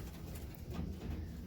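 Pigeons coo steadily inside a pigeon loft, a soft continuous murmur of several birds layered over a low, busy background hum without any talking.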